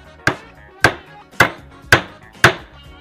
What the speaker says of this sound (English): you might hear a hammer